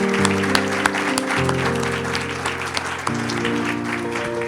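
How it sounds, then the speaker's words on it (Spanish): A church congregation applauds at a Spanish-language service, brisk clapping with a few sharp individual claps over held organ or keyboard chords. "Un fuerte aplauso al Señor."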